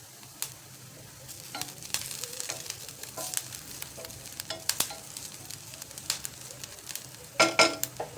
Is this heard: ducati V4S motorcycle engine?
no